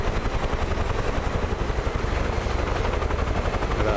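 Several UH-1H Huey helicopters arrive in Microsoft Flight Simulator over New Zealand valleys and peaks, their rotor thump and turbine whine forming a loud, steady, close drone with no talk.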